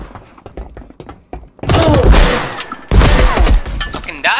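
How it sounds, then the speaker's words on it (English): Two heavy shotgun blasts from a video game boom out close and loud, each followed by a rumbling tail, after a few lighter clicks and thuds. "Eat a shotgun shell"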